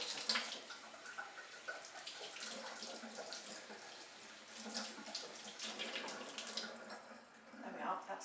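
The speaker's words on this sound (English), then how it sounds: "wash between all the layers with cold water." A leek, cut open with a knife, is rinsed between its layers under a cold running kitchen tap, giving a steady splashing water stream with faint handling sounds over the whole stretch.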